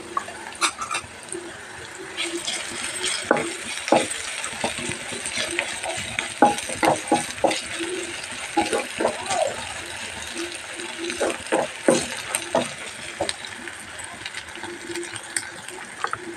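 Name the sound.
onions and ginger garlic paste frying in a pan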